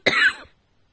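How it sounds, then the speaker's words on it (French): A single short, sharp cough, close and dry, that fades quickly into silence. "Bon, je tousse encore."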